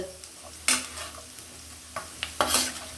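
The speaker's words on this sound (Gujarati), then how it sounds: "ડુંગળીને આમ જ આપણે 1 મિનિટ સુધી સાંતળવાની છે" Onions sauté in a pan for a kaju gathiya sabzi. The quiet sizzle is broken by a few sharp bursts of stirring and scraping, and there is no talking.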